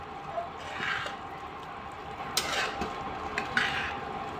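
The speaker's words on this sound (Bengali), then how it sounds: "আবার ঢাকনা তুলে নিয়েছি। এখন একটু নেড়ে দেব।" A spoon stirs Kachchi fish stew in a pot with the lid lifted, soft scraping and clinking against the pot over a faint simmering background, with no talking.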